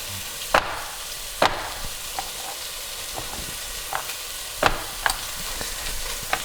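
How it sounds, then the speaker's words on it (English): Raw chicken being chopped into bite-sized chunks for a pasta dish: sharp, irregular knife thuds on a cutting board, a few loud and several lighter, over a constant sizzling hiss from a hot pan, with no voices. "I'm gonna start chopping up the chicken."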